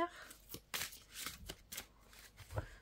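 Oracle cards shuffled and drawn by hand at close range, giving bursts of riffling and soft slaps in an uneven rhythm, with quiet speech at moments.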